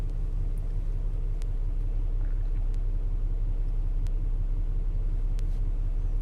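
A Land Rover LR4 idling with its engine running, heard from inside the vehicle as a steady low rumble and hum, continuous and even, with faint occasional clicks and no voices.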